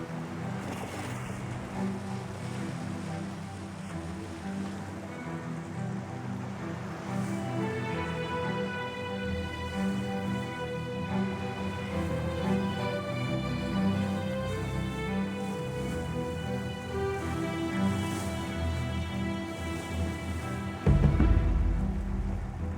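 A home-built boat out on the open sea: a continuous low rumble of hull and water, joined partway by a sustained tonal drone, with a brief heavy thump near the end and no talking.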